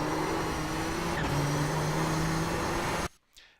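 Nissan GTP ZX-T race car engine at full throttle at Silverstone in iRacing, a steady loud high-revving drone with tonal whine, holding for three seconds before abruptly dropping away.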